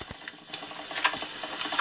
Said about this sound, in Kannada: ನೋಡಿ, ಇವಾಗ ನಾನು ಫಸ್ಟ್ ಟೈಮ್ ಅದನ್ನು ಫ್ರೈ ಮಾಡ್ತಾಯಿದ್ದೀನಿ.